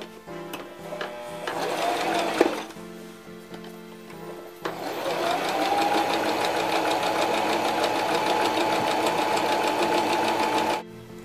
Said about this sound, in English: I'm going to start to sew it with a zigzag stitch about half of an inch from the edge